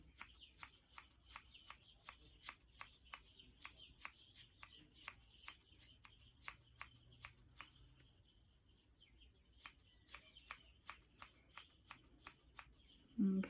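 Sharp scissors snip repeatedly through yarn while trimming a pom pom, quick crisp cuts in irregular bursts close to the ear, with a brief pause before the snipping resumes.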